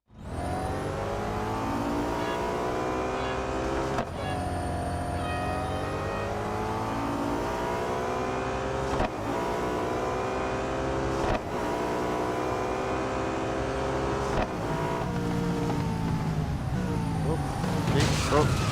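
Race cars roar around the Daytona International Speedway motorcycle course in Real Racing 3, engines revving up through repeated gear shifts with brief drops between, loud and close throughout.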